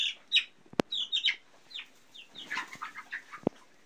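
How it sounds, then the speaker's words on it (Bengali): Twenty-day-old broiler chickens on a small poultry farm cluck and peep in short, scattered calls, some close and some further off, with two sharp knocks or clatters in between. "চতুর্দিকে ব্রয়লার মুরগিগুলো ছড়িয়ে আছে"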